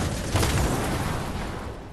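A loud explosion in the video game Fortnite, a dense booming burst with a strong low rumble that decays over about two seconds, heard on its own.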